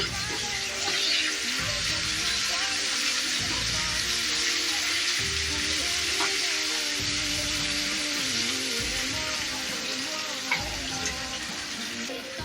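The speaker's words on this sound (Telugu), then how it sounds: "కొద్దిగా అల్లం పేస్ట్ వేసుకుంటున్నా ఇది కూడా పచ్చివాసన పోయేదాకా ఫ్రై చేసుకుంటాము" Ginger paste frying with softened tomatoes and onions for a village-style chicken curry, a loud steady sizzle filling the clip with occasional stirring scrapes and no talk.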